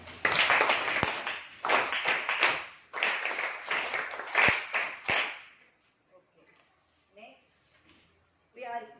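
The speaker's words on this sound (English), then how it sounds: "Clap hands" Schoolchildren in a classroom clap their hands in quick rhythmic bursts for about five seconds, sharp and close, before the clapping stops and quieter voices are heard.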